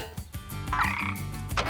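A cartoon frog croaks in repeated low, rhythmic ribbits, fairly loud and close, with a brighter squeaky burst partway through and no speech over it.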